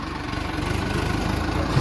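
A Mahindra Arjun tractor engine idles steadily nearby, a low, even diesel chug with a faint rhythmic throb and no other sounds over it.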